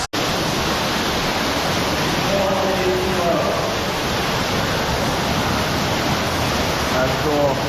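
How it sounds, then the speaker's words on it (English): Waterfall inside a cave after a heavy storm, a loud continuous rushing roar of falling water filling the space from start to finish, with faint voices barely audible beneath it. "We eyed up that waterfall"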